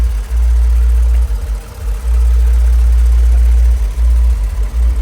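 A 3.5-litre car engine idles at a car market, a loud steady low rumble that holds nearly constant, with brief dips in level and no voices.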